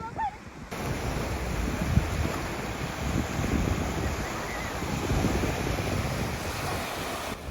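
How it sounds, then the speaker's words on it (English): Waves break and wash continuously onto a black sand beach on the Black Sea at Batumi, a broad steady surf roar mixed with wind buffeting the microphone, with no voices. "black sand beach, and here it is"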